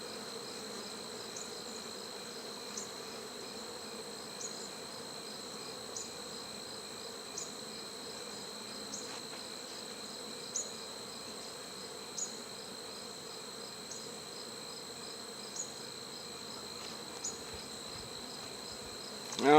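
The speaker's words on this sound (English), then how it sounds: "These bees are acting crazy because I just dropped them." Buckfast honey bees buzz in an opened breeder hive, a constant high-pitched hum from many bees with faint clicks of handling, steady throughout and close by.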